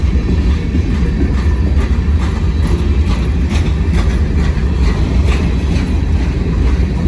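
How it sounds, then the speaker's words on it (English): Loud, continuous rumble of a freight train over 2 miles long, with six locomotives, rolling past nearby along a street, with a steady rhythmic clatter of wheels on the rails throughout. "This is a long train. It's over 2 miles long."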